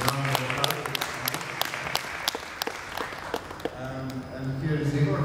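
An audience applauds at a Eurovision press conference in Baku for the Croatian singers, with scattered claps running under a talking voice, then fading as the speech continues.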